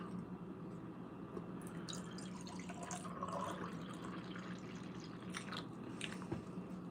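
Liquid pours into a cup in a steady, close-up trickle with a wet, splashy texture, heard alone without talking.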